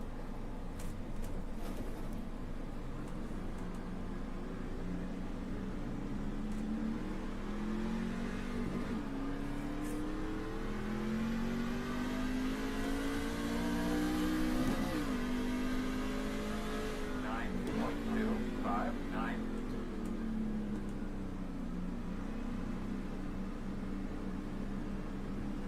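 Engine of a C Open Truck in iRacing at Lime Rock Park, revving and shifting pitch up and down continuously as the truck drives on, loud and steady throughout, with occasional brief talk over it.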